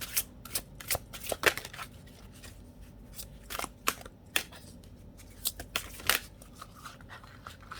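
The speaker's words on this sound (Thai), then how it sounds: "การกรีดไพ่นะคะ ทำได้ดีมากๆเลย" An oracle card deck from a Celebration of Love set gets riffle shuffled, with crisp flapping bursts and soft card taps repeating irregularly at close range, with no speech.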